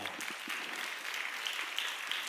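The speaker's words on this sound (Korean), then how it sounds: "다시 한번 귀한 특순으로 섬겨준 우리 박근영 자매, 유은정 자매에게 감사의 박수하겠습니다" Soft, distant applause from a church youth-service congregation thanking two singers for their special performance, a continuous even patter with no voices over it.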